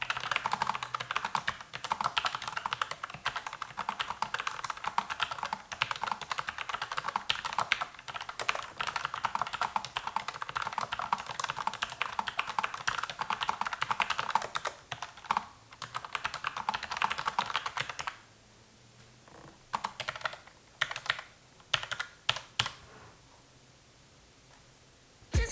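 Typing on a Logitech MX Mechanical keyboard with tactile quiet switches: a steady, dense patter of soft key clicks for most of the clip, then thinning to a few sparse keystrokes before falling silent.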